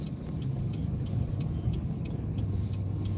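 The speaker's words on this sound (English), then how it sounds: "See how cars are speeding through here" Cars rolling through a parking lot with a steady low engine rumble close by, a continuous motor drone without distinct single passes, no talking.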